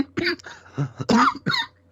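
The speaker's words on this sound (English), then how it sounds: "I had to have a coughing fit right then, didn't I?" A short fit of several harsh coughs and throat-clearing sounds, close and fairly loud, with brief pauses between bursts.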